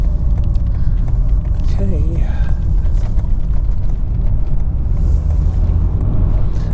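An Audi 80 pulls through busy Friday-afternoon rush-hour traffic toward a junction, with a steady close engine and road rumble throughout and a brief spoken word partway through.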